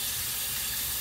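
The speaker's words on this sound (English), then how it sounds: "To keep your pasta from sticking in the colander, put water on it." Water runs steadily over drained pasta in a colander in a home kitchen, a close, even hiss and splash with no talking.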